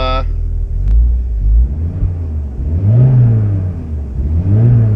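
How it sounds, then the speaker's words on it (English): A 1990 VW Corrado G60 idles with a deep, throaty rumble from an aftermarket exhaust, the revs rising and falling slightly in slow swells, close and loud. "It's got a little bit of a loud exhaust on it."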